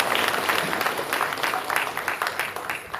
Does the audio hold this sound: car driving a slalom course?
no